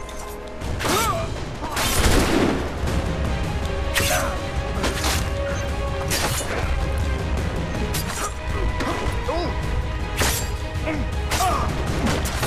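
Musket volley from British soldiers in Assassin's Creed 3, heard as several loud cracking shots and crashing impacts spread across a busy battle mix, with a voice talking at points.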